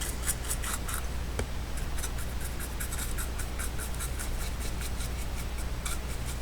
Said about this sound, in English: Brush off the excess.